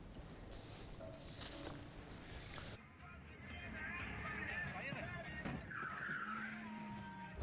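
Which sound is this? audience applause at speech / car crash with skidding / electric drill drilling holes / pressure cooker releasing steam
car crash with skidding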